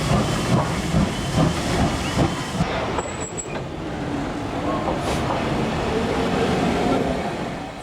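Steam hisses from a Black 5 steam locomotive, a broad steady hiss with a brief sharper whistle-like burst partway through, close and fairly loud with no clear talk over it.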